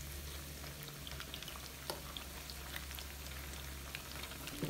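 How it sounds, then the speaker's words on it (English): Chicken meat frying over medium heat on a small stove for honey chicken gives a steady, fairly quiet crackling hiss with a low hum underneath. The sound stays continuous and even, with nobody talking. "See, when it's fry the meat, we don't use the very high temperature."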